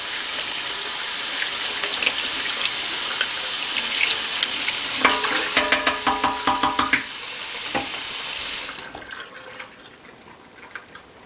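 A glass jar rinsed out under a running kitchen tap, with a steady loud stream of water, then brief rhythmic sloshing and clinking while the jar is swirled, before the flow stops and a quieter background remains.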